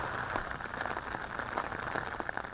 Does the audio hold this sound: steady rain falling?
yes